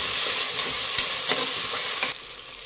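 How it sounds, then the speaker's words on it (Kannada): Two medium tomatoes, finely chopped, fry in a pan with ginger-garlic paste for a Kashmiri veg biryani. A loud, close sizzle carries a few spatula scrapes and then drops off sharply near the end. "2 ಮೀಡಿಯಮ್ ಸೈಜು ಟೊಮೆಟೊನ ಸಣ್ಣ ಕಟ್ ಮಾಡಿರೋಂಥದ್ದು ಹಾಕ್ತಾ ಇದ್ದೀನಿ. ಇದು ಅಷ್ಟೇ ಫ್ರೈ ಮಾಡಿ."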